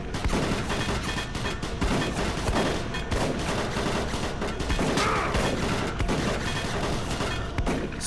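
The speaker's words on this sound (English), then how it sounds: "Whoa, this guy's shooting me." Enemy gunfire in the shooter game Doom 3, a dense, loud, continuous barrage of rapid shots and bursts filling the whole stretch without a break, with no voices over it.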